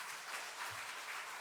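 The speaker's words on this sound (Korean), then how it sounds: "우리 박수하겠습니다." A church congregation applauding during a Sunday worship service, a steady, soft wash of many hands clapping heard from a distance.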